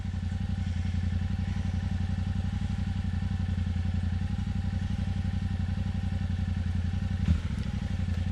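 Motorcycle engine idling and revving steadily up close as the rider works the clutch on a humid camping trip, a continuous low rumble with a brief clunk near the end.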